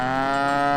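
A mother cow on an alpine pasture bellows in one long, loud, sustained moo with strong harmonic tone, close by and steady throughout.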